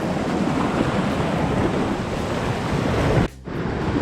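Stormy Atlantic surf off Tenerife, a dense, steady roar of breaking waves and wind close to the microphone, with a brief dip near the end.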